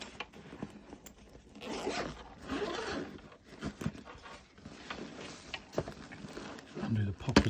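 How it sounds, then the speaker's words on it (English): A zipper is drawn all the way around a bag in several bursts, each a close, scratchy rasp, broken by short pauses and light handling noise. "and zip this all the way around."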